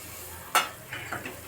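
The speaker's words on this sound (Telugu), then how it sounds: "మసాలా అంతా బాగా వేగిందండి" Dried grated coconut, coriander and masala fry in a pan, giving one sharp stirring scrape and a soft sizzle that fades over a quiet background.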